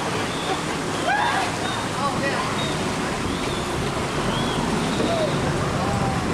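Waterfall seen from a boat off Kauai, a steady rushing roar of falling water mixed with surf and slosh, with birds chirping faintly and people talking over it.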